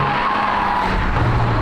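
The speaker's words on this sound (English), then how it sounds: "go round a roundabout like this and you can see over 1 G, and you'll get an appreciative squeal from the tyres as well" Tyres of a 2021 VW Golf R squealing through a roundabout at over 1 G, a sustained, steady screech over the car's road and engine noise, close and continuous.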